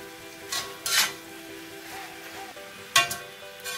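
Lo mein noodles tossed with bean sprouts in a pan, with a few scraping and clinking strokes of a utensil against the metal over a low sizzle, the louder bursts coming in short separate pulses.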